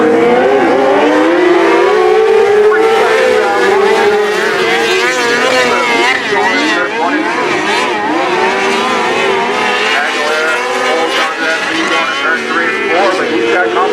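Race cars roar around a short-track speedway during a regular race program, engines droning loudly and continuously with rising and falling pitch as cars pass, while an announcer talks over the noise throughout.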